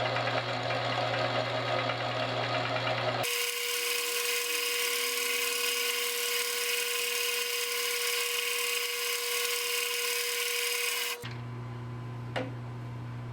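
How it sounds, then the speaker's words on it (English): A steady, loud machine whir and hum sounds in a workshop while drilled holes in a metal bearing plate for a Wheel Horse 704 Kohler engine are deburred. The pitch shifts partway through, then the noise drops to a quieter hum with a brief tap near the end. "First, I'll remove the burrs from these holes that I drilled in there."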